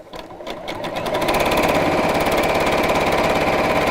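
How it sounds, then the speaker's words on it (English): Sewing machine stitching a straight line along the fabric edge of a zipped pouch, ramping up over the first second into a loud, steady, rapid mechanical whir with a fast needle rhythm, close and alone. "So I'm sewing up to about 1/4 of an inch away from the edge of the fabric, in a reasonably straight line"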